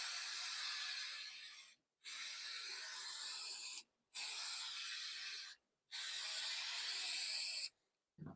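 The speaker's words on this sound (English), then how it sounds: "I'm going to spray quilt basting spray on this" Quilt basting spray hisses from an aerosol can onto wall hanging fabric in four long, steady bursts of about two seconds each, separated by brief pauses, close and moderately loud, with a faint click at the end.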